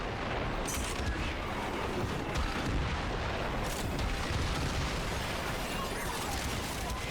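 The Tsar weapon fires in the sci-fi shooter Warframe amid a dense, continuous barrage of booming gunfire and explosions, loud and unbroken throughout.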